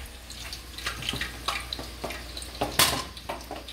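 Water from a faucet runs into a pot in a home kitchen while dinner is being cooked, a steady faint splash broken by clinks and knocks of cookware.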